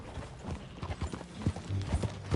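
Horse hooves clip-clop in Red Dead Redemption 2, an uneven rhythm of close, fairly loud hoofbeats that builds toward the end, with no talk over it.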